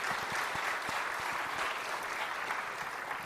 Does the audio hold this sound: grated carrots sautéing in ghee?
no